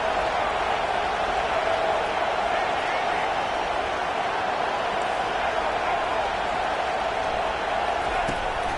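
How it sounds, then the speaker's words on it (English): A football crowd roars in a stadium as fans get loud to back their defense late in a drive, a steady, dense wall of cheering that holds at full volume throughout. "It is getting loud as this crowd tries to help its defense."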